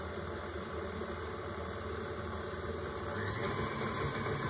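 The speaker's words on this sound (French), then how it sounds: "Je commence le pétrissage tout doucement" Stand mixer slowly kneading dough at low speed: a steady, continuous mechanical whir and low rumble that grows slightly louder near the end.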